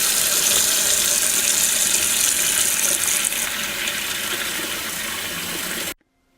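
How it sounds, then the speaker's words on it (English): Cool tap water runs steadily into a saucepan holding eggs, a loud continuous rushing gush that softens partway through and then cuts off abruptly near the end, with no talking. "Cover with cool tap water"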